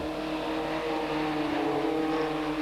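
TVR Tuscan race car on track in the 1995 Tuscan Challenge, its engine roaring loud and close with a steady high drone and shifting pitch as it swings through right- and left-hand bends.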